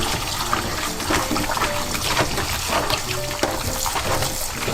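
Steady loud bubbling and churning of boiling water as a large sea creature cooks in a pot, continuous with no pauses.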